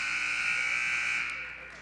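A scoreboard buzzer sounds at the end of the first quarter of a girls' high school basketball game against Gateway, one long, steady, loud electronic tone that tapers slightly as it ends.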